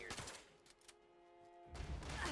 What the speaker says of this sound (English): Protectrons are shooting.